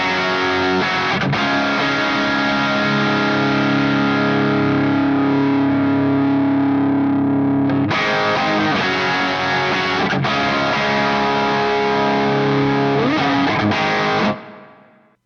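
Heavily distorted electric guitar through a Line 6 POD GO Silvertone 1484 patch with no boost, loud sustained chords with a couple of brief breaks and re-attacks, ending in a quick cutoff.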